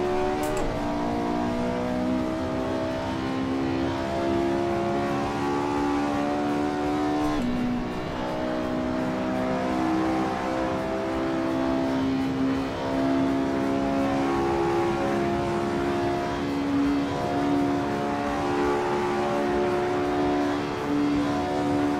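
Race car engine in the Assetto Corsa Evo sim, hot lapping: a steady, loud, continuous engine drone with shifting harmonic pitch as it revs and changes gear, running the whole time with no talk over it.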